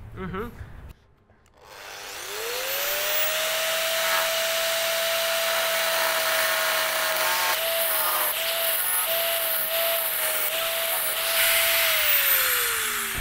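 Power tool cutting a small edge into the sill metal of a Porsche 911, a loud sustained high whine that spins up after a brief pause and grinds on continuously with shifting rasp.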